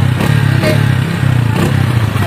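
A motorcycle engine idles close by in a steady, loud, low throbbing drone with a slight pulsing rhythm and some faint clatter.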